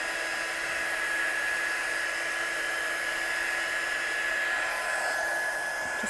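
Hair dryer drying a watercolour card: a continuous steady high-pitched electric whine and rush of air, close and unbroken, with no talk.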